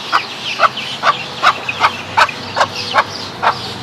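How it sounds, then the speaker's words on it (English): An upset chicken in Florida gives a string of about eight evenly spaced, loud, close squawking calls in a regular rhythm, with no voices over them. "What are you so upset about,"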